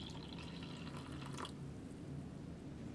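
Hot water pours into a cup or pot for a Norwegian Arctic field ration drink, a faint steady trickling fill that shifts slightly partway through, with no talk.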